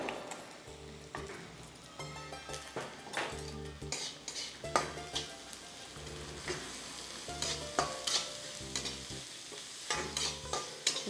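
Cluster beans with green chilli paste, garlic, cumin, curry leaves and coriander frying in a pan, a spoon scraping and stirring in repeated strokes over a constant sizzle, close and clear, with no talk.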